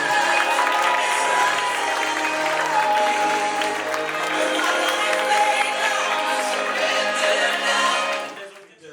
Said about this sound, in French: On applaudit très fort pour les futurs épouses.